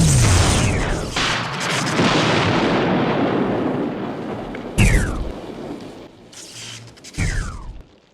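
A loud explosion sound effect from a clay animation bursts with a broad roar that rumbles and fades over several seconds. Two sharper blasts follow later, each with its own shorter rumbling tail.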